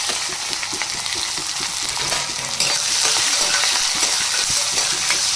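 Cumin and mustard seeds fry in hot oil with a loud, continuous sizzle and crackle, stirred with clinking strokes, and the hiss grows briefly stronger midway.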